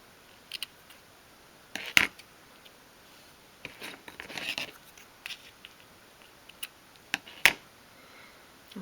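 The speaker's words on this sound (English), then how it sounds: "Then you can trim the ribbon off at the end there." Small scissors snip ribbon on a 1/12th scale dolls house box, giving a few sharp close cuts spread among quiet handling and rustling.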